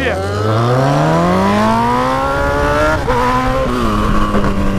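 A Honda CB1000 motorcycle with a straight-pipe exhaust revs hard and climbs in pitch, roaring loudly and close, then holds a high whine before dipping slightly.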